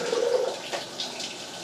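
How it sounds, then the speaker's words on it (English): Water pours and splashes as it is dumped out of an AeroGarden base, a brief close gushing rush that tapers off within a couple of seconds. "Dump that water."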